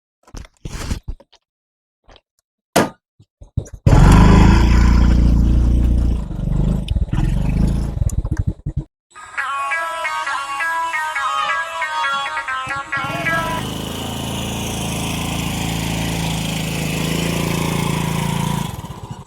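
A tractor engine starts with a few sharp knocks, then runs loudly with a steady rumbling roar, close by and alone.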